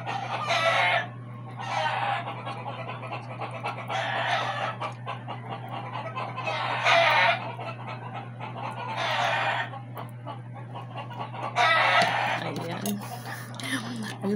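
Chickens clucking and roosters crowing nearby, several loud crows repeating every few seconds over a steady low hum, with continuous clucking underneath.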